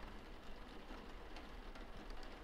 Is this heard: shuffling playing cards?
no